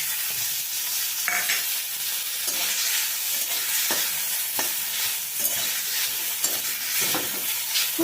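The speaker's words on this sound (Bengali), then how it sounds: "এখনই আমি এতেই কিন্তু চিংড়ি মাছগুলো ভেজে নেবো" Shrimp frying in a little oil in a pan, a steady sizzle with stirring scrapes and clinks at intervals, close and continuous with no talking.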